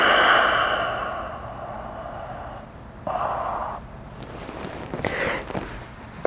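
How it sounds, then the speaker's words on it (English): A person takes slow, audible breaths while holding an overhead mobility position, a long airy exhale followed by a shorter inhale and a few faint clicks, close and quiet with no talking. "Cycle another breath."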